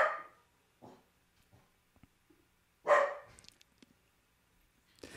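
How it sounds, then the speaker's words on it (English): A dog gives a few short, separate barks in a quiet room, with one sharper bark near the middle and long silent gaps between. "This is my dog Freya"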